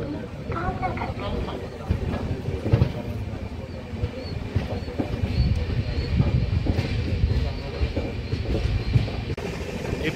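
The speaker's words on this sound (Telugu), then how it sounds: "మనమైతే బయలుదేరాము అల్లూరు రైల్వే స్టేషన్ నుండి" Kagaznagar superfast express pulling out of a railway station, a steady low rumble of wheels and carriage with soft rhythmic clatter throughout, fairly loud and continuous, with faint voices mixed underneath.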